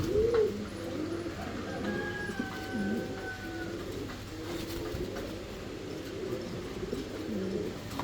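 Fancy pigeons coo softly in a pigeon loft, several birds giving repeated throaty calls close by over a steady ambient hum, with a few brighter chirps mixed in.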